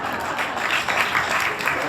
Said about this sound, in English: thank you for that round of applause for that bit of information.